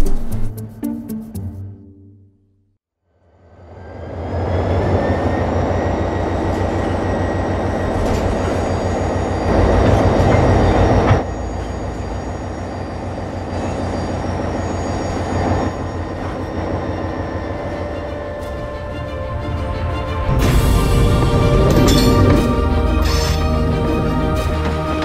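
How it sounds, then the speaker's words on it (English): A train rumbles into motion after a brief quiet, building to a steady loud roar with rattling wagons and a rising hum, then metallic clatter and squeals. "Once the train starts to move"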